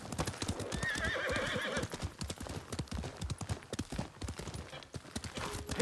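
Horse hooves clip-clop steadily at a gallop in the samurai video game Ghost of Tsushima, with a neigh early on, loud and continuous throughout.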